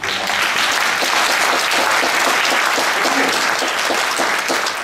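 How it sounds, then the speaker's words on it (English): Dense, loud applause from a gala audience at a Chinese New Year celebration, steady and sustained throughout with no talking over it. "I would like to give them another round of applause."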